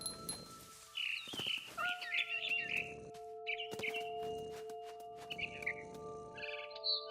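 Barn swallow chirps from the video game What Remains of Edith Finch: a series of short, bright twittering calls heard up close, scattered across the clip over steady sustained game music tones.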